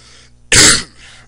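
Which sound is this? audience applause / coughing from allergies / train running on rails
coughing from allergies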